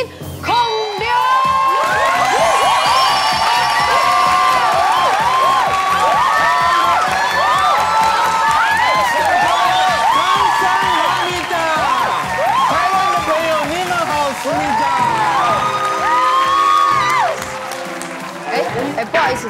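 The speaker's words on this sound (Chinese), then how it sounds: "现在，让我们掌声欢迎孔刘" An audience at a company year-end banquet welcomes a Korean celebrity with loud, sustained cheering, high-pitched shrieks and whoops over applause. The excited crowd noise stays at full strength for about seventeen seconds, then tapers off.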